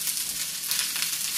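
An Aldi steak sizzling in a cast iron pan: a dense, steady hiss of frying fat, close and even, with faint crackles throughout and nothing else over it.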